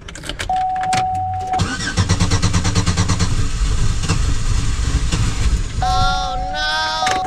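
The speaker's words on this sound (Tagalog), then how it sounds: "painitin natin yung sasakyan kasi baka hindi umanda" A car in snowy Canadian winter cranks and starts, its engine settling into a steady close idle, with a sustained electronic chime sounding before the engine catches and again once it is running.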